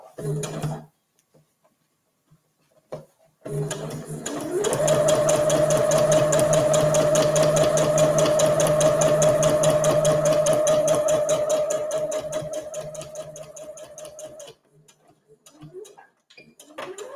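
A sewing machine runs a side seam on a reusable fabric gift bag, a steady rapid mechanical whir lasting about ten seconds before slowing to a stop, preceded and followed by brief handling taps.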